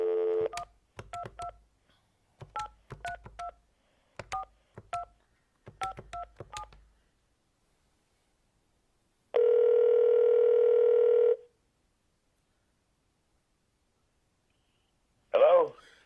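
A telephone being dialed for a call: a short tone, then a rapid series of touch-tone button beeps in clusters, a steady dial tone lasting about two seconds, and a brief final tone after a pause.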